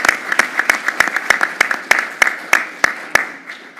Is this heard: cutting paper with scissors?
no